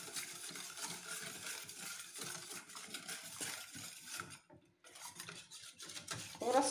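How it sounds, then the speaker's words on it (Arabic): A butter and flour roux for a cauliflower gratin is whisked in a pan, giving a quiet continuous scraping and clinking of the whisk against metal, with a short pause near the end. "غنبقى نحرك بشي فوي بهذا الشكل حتى ما يبقاوش ليا التكتلات ديال الدقيق"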